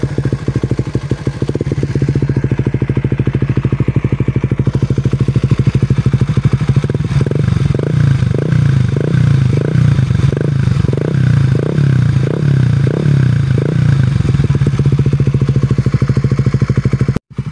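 A 2024 Raider 150 Fi motorcycle fitted with a Vhenworkz power pipe exhaust idles steadily, then revs repeatedly in a series of pulsing throttle blips before settling back, loud and close with no talk.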